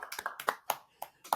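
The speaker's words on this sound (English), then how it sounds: "Clap it up for Briggs." A small group gives a few short, scattered bursts of claps for Briggs, irregular and sparse rather than a sustained round of applause.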